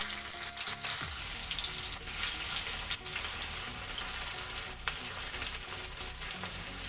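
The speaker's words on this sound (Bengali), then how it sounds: "পেঁয়াজটা ভেজে নিচ্ছি।" Onions frying in a pan give a steady, dense sizzle with crackling texture throughout, close and continuous with no voices.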